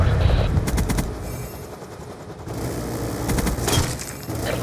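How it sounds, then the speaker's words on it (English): Rapid automatic gunfire from a stealth chopper in the video game Black Ops 2 rattles in dense repeated bursts over a steady engine-like rumble, loud and continuous, with a brief lull in the middle. "Stealth chopper inbound."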